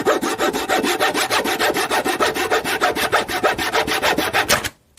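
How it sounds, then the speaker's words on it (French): A small Japanese hand saw cutting wood in a violin maker's workshop, with steady rapid back-and-forth rasping strokes, loud and close, ending abruptly as the cutting stops. "Alors ça, c'est une petite scie japonaise."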